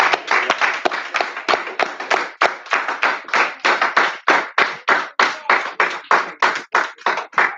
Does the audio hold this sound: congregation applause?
yes